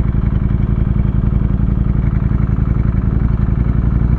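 A Ducati Streetfighter V4S motorcycle engine drones steadily and loudly at close range, a deep continuous rumble with even pulsing and no talk.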